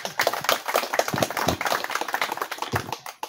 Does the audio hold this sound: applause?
yes